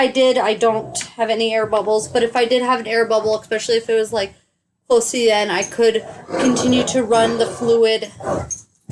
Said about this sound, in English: sorry that my dogs are making noise